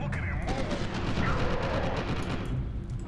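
Gunfire booms in the horror shooter game F.E.A.R. 2: Project Origin, a dense, rumbling stretch of rapid shots and blasts sustained loudly throughout the short moment.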